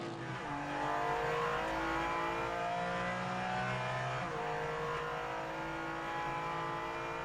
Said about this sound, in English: the 2 Audis chasing Tom are quicker in the corners but can't hold a candle to the bigger engine GT machine ahead of them